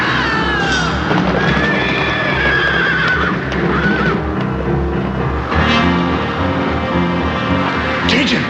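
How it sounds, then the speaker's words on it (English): Horses whinny repeatedly with shrill neighs over restless hoof noise, as spooked, loose horses mill about in a dense, busy scene. "The horses are loose."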